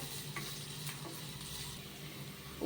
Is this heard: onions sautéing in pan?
yes